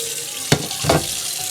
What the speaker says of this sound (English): I'm just gonna soak it real fast. With hot water.